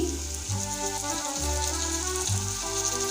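Onions and garlic paste fry in a pan with a steady, hissing sizzle, heard under background music with a repeating melody.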